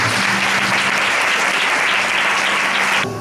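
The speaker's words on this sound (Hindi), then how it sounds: "एक ताली बजा के" A church congregation at a Christmas service bursts into sustained applause, a dense, loud wash of clapping that continues steadily before cutting off abruptly near the end.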